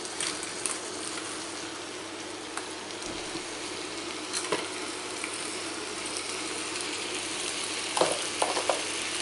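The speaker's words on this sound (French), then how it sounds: "Donc on fait cuire le tout pendant 3 à 4 minutes." Carrots and mushrooms cooking together in a frying pan, a steady sizzle with occasional stirring scrapes and clicks, louder bursts near the end.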